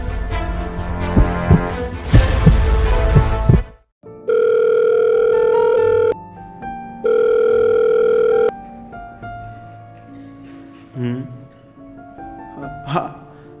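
A telephone in a home during lockdown gives two long steady electronic ringing tones, loud and close, following a stretch of background noise, with faint speech-like sounds afterwards.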